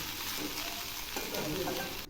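Kharkol leaves fry and sizzle in a pan while being stirred, a steady close hiss with light scraping throughout the short stretch.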